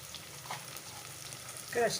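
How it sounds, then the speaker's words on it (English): Crushed garlic frying in hot oil in a pan give a low, steady sizzle, with a brief sharper clatter of a utensil near the end. "here I'll drop in about 1 tablespoon of crushed garlic"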